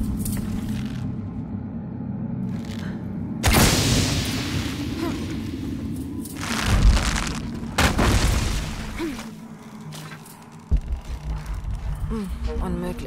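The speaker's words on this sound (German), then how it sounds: "Ich brauche eine Explosion, damit die Plattform schwingt." Several deep booming explosions thud out among rumbling noise in Shadow of the Tomb Raider, with a loud burst early on and more bursts in the middle.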